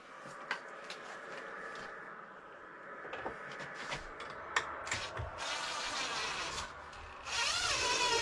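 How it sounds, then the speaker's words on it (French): Power drill driving screws into a wooden front window frame during installation, with short bursts of whirring and a longer, louder burst near the end, close by amid handling clatter. "Je visse."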